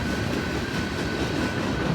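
A shoreline passenger train rolls past a railfan spot near Royal Oak and Emmons Boulevard in Wyandotte, a continuous heavy rumble and rail roar held steady throughout, loud and close, with no talking.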